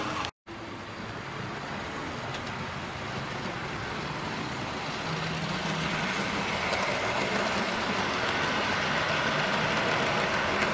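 A model railway train runs laps around a loft layout, making a steady rolling rumble with a light rhythmic clickety-clack over track joints that grows slightly louder, close by and without talk.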